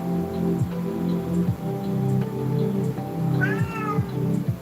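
A cat meows once, clearly and fairly close, over a steady rhythmic background with a pattering texture like rain.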